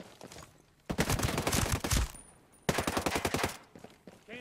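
Rapid bursts of automatic gunfire in Ghost Recon Breakpoint, two long, loud volleys of fast repeated shots separated by a brief pause.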